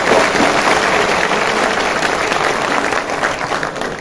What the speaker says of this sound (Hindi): तो मेरे को इनवाइट करने के लिए पहले तो योगेंद्र चांदोलिया जी के लिए जोरदार ताली बजाओ।